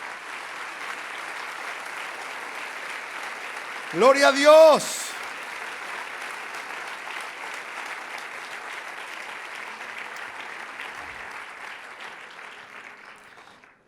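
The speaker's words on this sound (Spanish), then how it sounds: "Fuerte ese aplauso al Señor." A church congregation applauds in a steady, sustained wash of clapping that fills the whole stretch, while a man briefly calls out over it.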